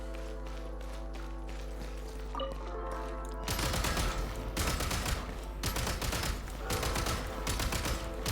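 Gunfire at a video game shooting range, a sustained burst of rapid automatic shots beginning partway through after a stretch of game music and ambience, loud and close.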